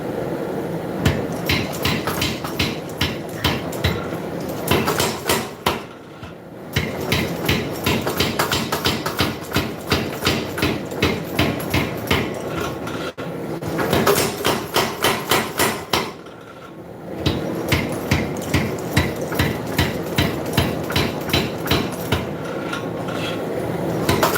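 A hammer forges the tip of a hunting knife blade, striking repeatedly in steady, fast rhythmic bursts broken by brief pauses, loud and close with metallic ringing and no talk.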